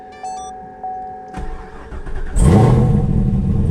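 A sixth-generation Chevrolet Camaro ZL1 cranks and fires up, its starter whirring briefly before the engine catches with a loud roar and rising rev that settles into a rumbling idle, preceded by a few dashboard chimes.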